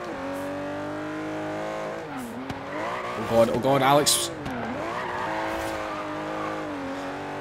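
Aston Martin Vantage GT12 race car, a 593 hp road racer in Forza Horizon 3, revs with rising and falling engine tones, then skids in a brief loud tire squeal mid-clip, with someone talking throughout.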